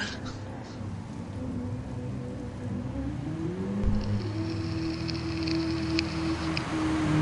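Rain during a race in the video game Gran Turismo Sport, a steady dense hiss of falling rain under the drone of a racing car engine whose pitch rises and falls.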